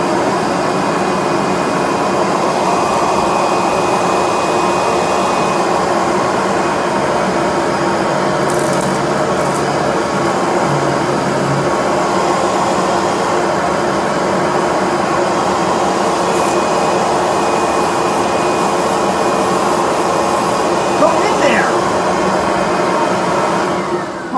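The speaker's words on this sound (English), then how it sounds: "the Kirby vacuum's so powerful that it ripped the whole stuff out of it" A Kirby vacuum cleaner running continuously and loudly close by, a steady motor whine with airflow roar and a few brief changes in pitch, with no talking.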